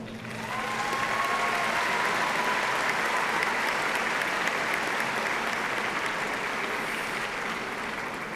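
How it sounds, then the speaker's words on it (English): A graduation audience at an Eastern Kentucky University spring 2014 evening commencement ceremony applauds in a dense, sustained roar of many clapping hands. It swells after a brief quiet start and holds evenly, somewhat distant in a large hall. "join me in showing your appreciation for these very important people in your lives"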